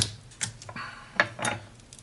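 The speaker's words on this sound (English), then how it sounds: "I'm just going to go ahead and give all the vegetables a nice cut" A knife chops carrots, celery, garlic and hot Thai chili peppers for bone broth, giving a few sparse, close, crisp cuts and taps on a board with quiet gaps between them.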